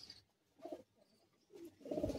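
A pigeon with plumage like a rock dove gives a few soft, separate coos in a loft. The coos are quiet and fall in short bursts with pauses between them.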